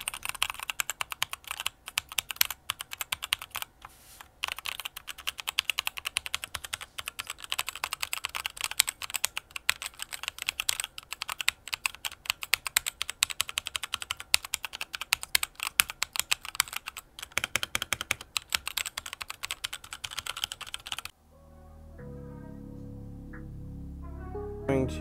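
Fast continuous typing on a Royal Kludge RK61 60% keyboard with red switches, close and steady key clatter for about twenty seconds before stopping, followed by quieter background sound.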